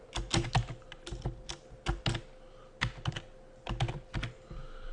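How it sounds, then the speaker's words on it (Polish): Fingers type on a computer keyboard in close, loud bursts of rapid clicking, broken by short pauses, with a faint steady hum in the background and no one talking. "Mamy więc grupę kolor obudowy, i wpisujemy pierwszą wartość."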